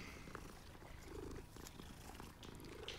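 A cat in the Hogwarts Legacy video game purrs steadily and softly for a few seconds as a low, continuous rumble close by, with no one speaking.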